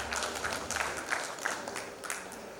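A conference audience applauds panelists at a digital transformation event in Guwahati, with steady, moderately faint clapping running through the whole stretch and occasional sharper claps standing out.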